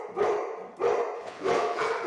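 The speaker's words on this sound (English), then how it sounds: "instead of being frustrated that the dog just barked" Dogs bark in three loud, full barks spaced roughly evenly apart, close by, as construction workers walk in. No talk is heard over them.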